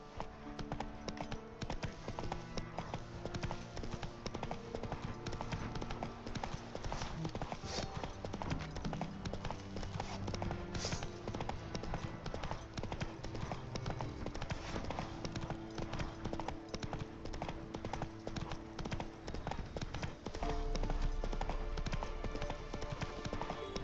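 Roach the horse's hooves clopping in The Witcher 3, a steady, close clip-clop rhythm running throughout over a dense game soundtrack, with a brief change near the end.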